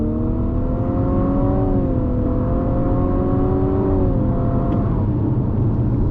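A 2022 Infiniti QX55 SUV accelerates from a roll under throttle, its engine a steady, close drone with a slowly rising tone. No one talks over it.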